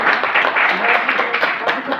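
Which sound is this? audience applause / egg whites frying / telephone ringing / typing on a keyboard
audience applause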